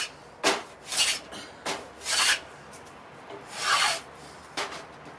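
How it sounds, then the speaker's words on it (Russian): A rough-work wood plane shaving wood in a carpentry shop, five or six separate rasping strokes with short pauses between them, close and distinct. "Он как рубанок, но грубой обработки."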